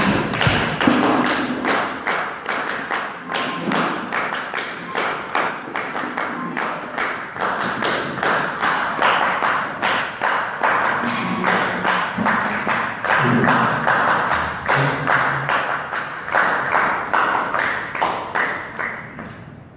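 An audience at a Toastmasters club meeting in Kinshasa claps steadily for about twenty seconds with a rhythmic, pulsing pattern, fairly close and loud, with faint voices in the background.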